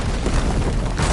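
In Horizon Forbidden West, a support beam is shot down and boulders crash in a dense, loud, rumbling explosion that fills the entire short moment with heavy low-end impact.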